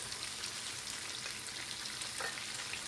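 Two spoons of ginger garlic paste frying in a pan for bhindi masala, a dense even sizzle heard up close with faint stirring touches and no voices.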